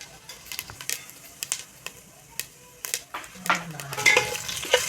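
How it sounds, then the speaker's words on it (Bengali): Cumin seeds fry in about two spoons of ghee for jeera rice, a crisp close sizzle with sharp crackles and pops as a spoon stirs and scrapes the pan. "এই জিরাটা তো ঘিয়ের মধ্যে দিয়ে ভেজে নেব"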